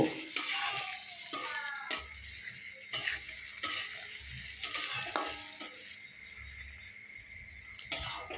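Fish curry with a spoonful of ground cumin, coriander, fennel and garam masala sizzles in a pan while a utensil scrapes and stirs in repeated sharp strokes, close up, with no talking.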